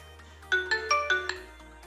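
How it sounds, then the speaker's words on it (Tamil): A phone rings after the Redmi Smart Band's Find My Phone feature is triggered, giving a short, clear ringtone melody of about five bright chiming notes in quick succession, then stopping, with no talk. "ஃபைண்ட் மை ஃபோன் கிளிக் பண்ணிங்கன்னா ஃபோனில் வந்து சவுண்டு வரும்"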